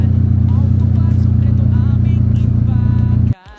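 A low-power engine misfiring after a new spark plug and seal, running loud and close with a rough, uneven drone that cuts off abruptly near the end.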